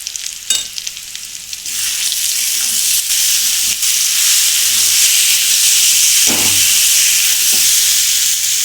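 Spiced kochu (taro) mixture with chilli powder, turmeric and salt frying in a pan, a loud continuous hissing sizzle with occasional stirring scrapes, close up, no voices.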